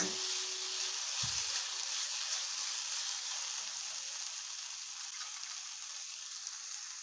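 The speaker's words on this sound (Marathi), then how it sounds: "हे कमी गॅसवर एक तीन चार मिनिट व्यवस्थित परतून घ्यायचे" Masala ingredients for a cauliflower dish sauté gently in a pan over low gas, giving a soft, steady, faint sizzle throughout with one brief thump near the start.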